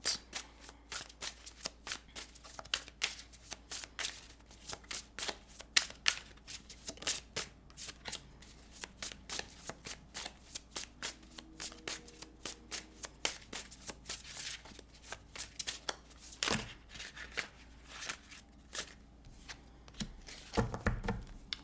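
A deck of cards is shuffled by hand in a steady stream of rapid, crisp riffling and flicking close by, with a few louder slaps toward the end and a quiet background.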